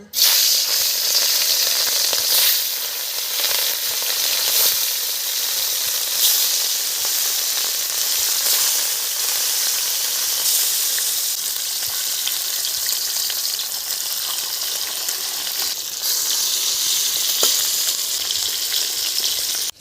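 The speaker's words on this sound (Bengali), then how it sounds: "কড়াই তেল দিয়ে দিচ্ছি তেল গরম হয়ে গেছে মাছগুলো দিয়ে দিচ্ছি" Rohu fish pieces fry in hot oil in a wok, giving a loud, continuous close sizzle that holds steady throughout with occasional crackling bursts.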